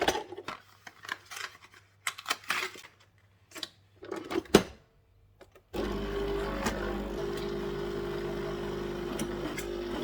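A home espresso coffee machine's steam wand frothing milk, a steady loud hissing roar that starts abruptly after several seconds of clinks and handling sounds of cups and jug, and continues unbroken to the end.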